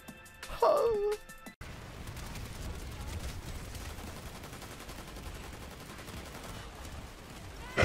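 Rapid video game gunfire, a dense sustained burst of shots after a brief exclamation, running loud and continuous for several seconds.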